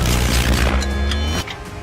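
A loud, booming blast in the video game Minecraft, with a deep rumbling low end and bright crackle that holds for over a second before cutting off into a quieter tail; no talking.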